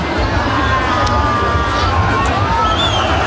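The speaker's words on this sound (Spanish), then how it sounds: "Fuerte el aplauso." Crowd in the stands of a rodeo arena (medialuna) applauding and cheering for a rider, a dense, steady roar of claps and shouts throughout, with an announcer's voice faintly in the mix.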